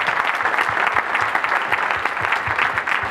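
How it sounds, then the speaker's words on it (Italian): An audience at a community anniversary evening applauds steadily, a dense crowd of hands clapping in an even patter at moderate level without speech. "facciamo un applauso"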